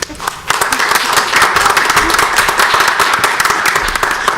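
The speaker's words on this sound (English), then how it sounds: "let's give her a round of applause" An audience at a law society career panel breaks into dense, sustained applause, many hands clapping loudly and continuously after a brief lead-in.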